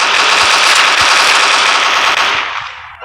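Rapid gunfire in the mobile first-person shooter Coalition, a loud continuous stream of shots that tails off near the end, with no talk.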